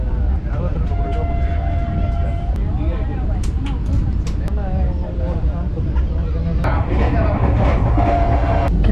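A Vande Bharat passenger train to Nagercoil rumbles along loudly and steadily, rail clatter and metallic squeals cutting through, with a voice talking over the noise.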